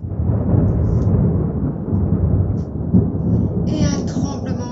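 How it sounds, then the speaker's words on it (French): A thunderstorm sound effect in a kamishibai paper-theatre story, a deep continuous rumble of rolling thunder with rain hiss, loud and steady, and a faint high bird-like chirp near the end. "un orage terrible éclata"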